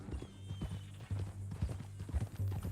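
Horse hooves clip-clopping in Red Dead Redemption 2, a steady walking rhythm of soft, close hoofbeats over low ambient rumble.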